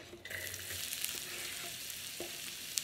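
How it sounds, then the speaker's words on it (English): Red onions dropped into hot sesame seed oil in a pan for a quinoa stir fry, a sudden burst into a dense, steady sizzle that carries on evenly and close with a few faint clicks. "And then you're gonna add these lovely red or purple onions in there."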